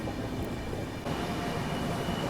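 Humsafar Express train running at speed as a continuous dense rumble of wheels and rails, heard steadily from on board with no talk.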